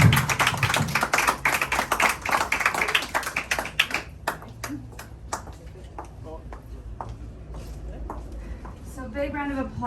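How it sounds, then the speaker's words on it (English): Audience clapping after a youth poetry reading, loud scattered claps at first that thin out to sparse individual claps, with voices speaking over it. "So big round of applause for our OC Youth Poet Laureate, TMI."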